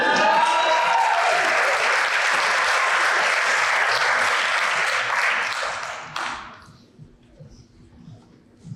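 A big crowd at a law enforcement graduation ceremony breaks into loud, sustained applause for about six seconds, then the clapping thins out and fades to a few scattered claps.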